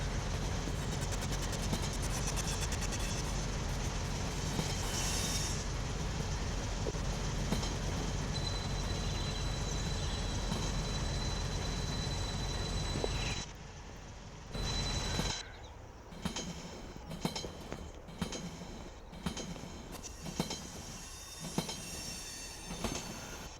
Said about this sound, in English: And we got another train passing us.